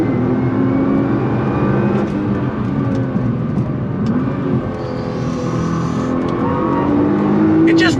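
A Nissan R35 GT-R accelerates hard at full throttle, its engine note climbing through the gears, loud and close from inside the car, with a shift and a rising whine near the end.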